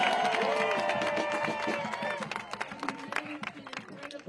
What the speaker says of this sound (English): Big round of applause for Bob, who made enough buttons for almost everybody here